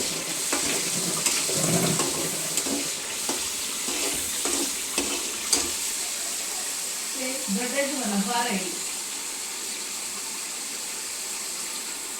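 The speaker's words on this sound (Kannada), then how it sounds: "ಅದೆಲ್ಲ ಉಪ್ಪೆಲ್ಲ ಮಸಾಲೆಗೆಲ್ಲ ಚೆನ್ನಾಗಿ ಫ್ರೈ ಆಗಬೇಕು." Salt and spices fry in a pan with a steady, close hiss and crackle, joined by a few stirring scrapes and a brief voice speaking partway through.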